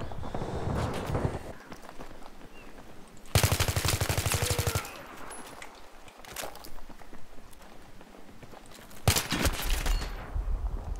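Automatic gunfire from the video game Battlefield 3 comes in loud rapid bursts separated by quieter stretches of footsteps and ambient game noise.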